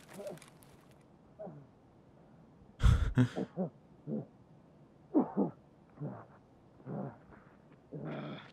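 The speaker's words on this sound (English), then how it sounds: "there's still a guy coughing his guts up upstairs." A man coughs upstairs in a video game: a series of rough, throaty, hacking bursts in irregular clusters, sounding somewhat muffled and distant over a quiet background.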